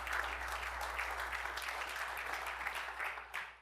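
An audience at a Trout Unlimited conference claps in a steady, moderately faint round of applause that tapers off at the end.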